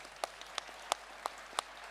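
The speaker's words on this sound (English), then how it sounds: "Can we have a round of applause for her?" At a youth development forum, a few scattered individual claps ring out sparsely and irregularly over a quiet room, spaced roughly a third of a second apart rather than forming full applause.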